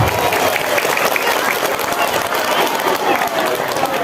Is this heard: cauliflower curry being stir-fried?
no